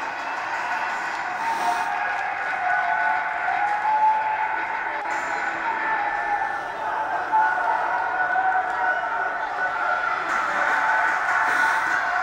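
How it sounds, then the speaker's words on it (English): Virtual arena crowd in the WWE 2K19 wrestling video game roaring and cheering steadily for a wrestler's entrance, a dense continuous wash of noise throughout with no speech. "you can just tell by the reaction of this NGW crowd, all on their feet for the Misfit"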